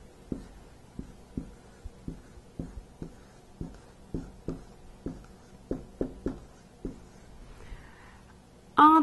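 Tip strokes on a board while writing, a dozen or so crisp taps and short scrapes in an uneven rhythm, close by with no talking, ending in a brief louder knock.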